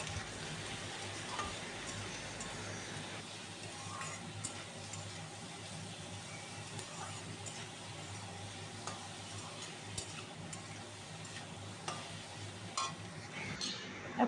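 Spice paste with salt, turmeric and grated ginger stir-fried in a pan for a jackfruit and prawn curry, giving a steady low sizzle with light scraping ticks of a spatula throughout.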